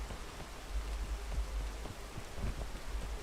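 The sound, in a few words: rain in the video game PEAK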